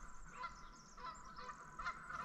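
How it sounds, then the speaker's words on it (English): Geese honking in the distance, a steady chorus of calls repeating throughout, with no voices. "You can hear the geese off in the background."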